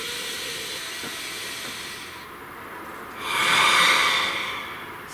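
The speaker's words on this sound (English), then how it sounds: "Please take a nice deep breath." A deep breath taken slowly, a long airy inhale and exhale that swells into a louder breathy hiss midway before easing off, close and without talk.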